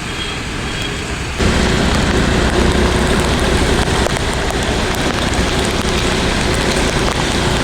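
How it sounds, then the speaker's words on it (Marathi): Monsoon rain falls on a highway-side road in Nalasopara, near Mumbai, a steady roadside wash. It starts quieter, then jumps to a louder, dense hiss that runs on unbroken, with faint traffic mixed in and no speech. "पावसाचा जोर पण थोडा आता कमी झाला आहे"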